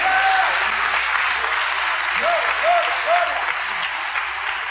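A church congregation gives a sustained round of applause during an evening sermon, dense, steady clapping close and loud throughout, with a few short vocal exclamations rising above it.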